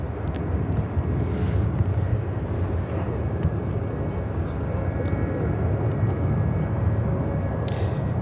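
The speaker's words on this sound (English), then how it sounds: "Airlines 2639 taking off to San Francisco on the 737-800" A Boeing 737-800 bound for San Francisco takes off from Chicago O'Hare, a loud, sustained jet roar with gusty wind noise on the microphone throughout.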